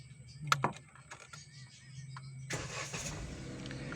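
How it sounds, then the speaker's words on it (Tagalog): A manual-transmission car's engine is restarted during a driving lesson, with a couple of sharp clicks and clunks followed by the engine catching and settling into a broad, steady running noise, heard up close inside the cabin. "Patayin mo yung makina, start mo ulit. I-start mo ulit yung makina."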